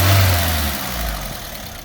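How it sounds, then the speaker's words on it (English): A Suzuki Swift's engine with a hunting, uneven idle is revved, giving a loud, close mid-range roar that holds steady and then eases slightly. "Give it a little rev."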